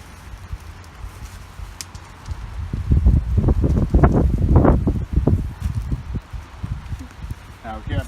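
Gusting wind blows outdoors beside a lighter-fluid fire being started, a steady low rumble buffeting the microphone and swelling in the middle, with people talking over it.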